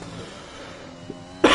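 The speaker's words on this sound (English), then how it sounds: "My apologies for coughing." A single sharp, loud cough from a nearby commentator breaks in at the very end, after a stretch of low steady background hum from a sim-racing qualifying session.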